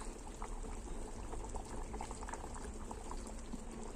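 Fish curry boiling steadily in a pot, a continuous bubbling, simmering wash with small pops throughout, close and even in level with no talk.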